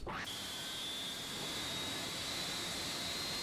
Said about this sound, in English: It sounds so good, this plane.